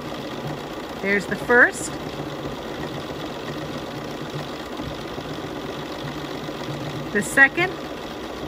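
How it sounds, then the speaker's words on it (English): A BERNINA sewing machine runs steadily while stitching three decorative patterns on fabric, a fast, even motor hum throughout, with a person speaking briefly over it near the start and end. "the machine is going to stitch 3 patterns"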